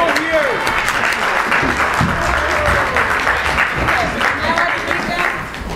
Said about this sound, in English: we're gonna slow clap. And at 1, we're gonna be really fast